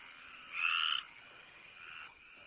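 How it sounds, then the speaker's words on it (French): A single frog croaks at night, one loud rasping call near the middle and a softer call after it, standing out over a faint, steady background of night ambience. "J'entends rien avec ces saloperies de grenouilles."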